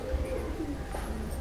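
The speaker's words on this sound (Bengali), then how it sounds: "খুব সুন্দর পায়রা" A pigeon, one of a fancier's costly birds, coos in low soft murmurs close by, a gentle repeated call over a quiet indoor background.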